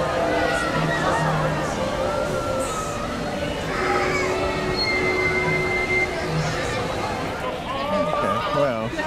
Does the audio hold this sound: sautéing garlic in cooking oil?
no